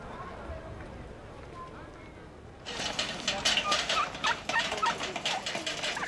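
Turkeys gobble in rapid bursts, close and loud, after a few quieter seconds of outdoor background at a riverside market; a voice speaks faintly beneath.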